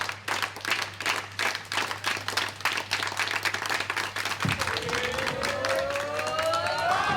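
Applause and clapping from the audience at a women's bowling final, a sustained dense patter that carries on steadily, with a whistle-like tone rising in the latter half.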